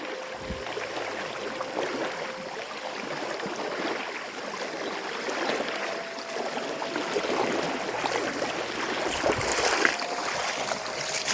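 A village river, the Barun stream, flows in a steady, rushing wash close by, continuous throughout.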